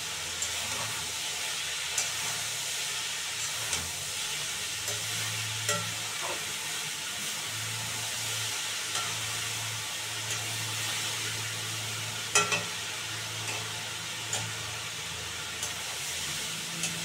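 Steamed cabbage is stir-fried in a pan with fried potato and tomato, giving a steady hissing sizzle with intermittent scrapes and clinks of a spatula over about seventeen seconds.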